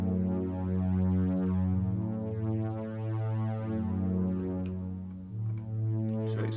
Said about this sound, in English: Digital Synth 1 is now JP8 Strings 1 and sounds like this.